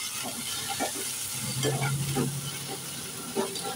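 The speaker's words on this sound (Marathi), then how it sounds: "आता आपण ही कढईमध्ये घालूया आणि आपल्याला काय करायचं आहे, ती चांगली क्रिस्पी होईपर्यंत भाजून घ्यायचं आहे" Washed dried fish roasting and being stirred in a kadai gives a soft, continuous sizzle with occasional scraping strokes of the spoon against the pan, close and fairly quiet with no talking.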